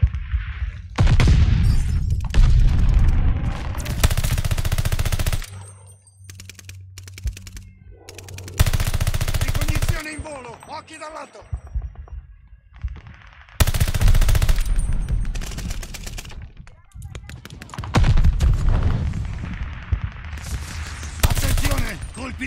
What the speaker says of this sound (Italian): Attenzione, colpi di mortaio alleati.